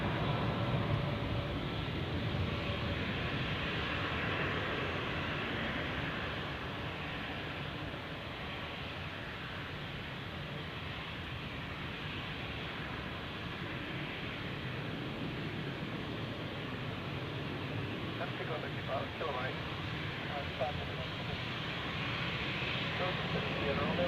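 Steady, loud broadband roar of aircraft engines at Zurich airport during plane spotting, running continuously for the whole stretch with a faint murmur of voices beneath.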